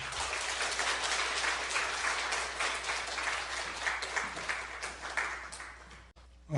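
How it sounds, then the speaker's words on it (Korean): A church congregation applauds to welcome a pastor, a dense, steady wash of many clapping hands that fills the room for several seconds before cutting off abruptly. "큰 박수로 환영해 주시기 바랍니다"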